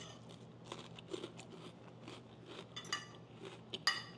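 A crunchy summer salad is bitten and chewed close up, giving a string of soft, irregular crunches and crisp snaps over a quiet room hum, with no talking.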